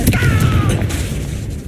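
Confringo fire-blasting spell explosion in the Hogwarts Legacy video game: a sharp, loud burst at the start that rolls into a heavy low rumble and fades over under two seconds.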